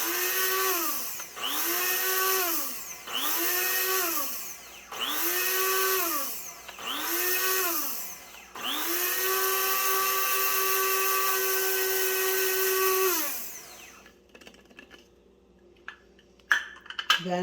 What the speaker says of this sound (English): a regular brew is ground for about 15 seconds on this grinder